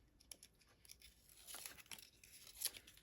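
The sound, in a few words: peeling backing off adhesive for a craft project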